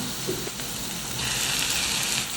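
About 400 grams of tiger prawns drop into a hot pan of chilli masala and set off a steady, close sizzle and hiss that grows a little louder partway through, with no talking.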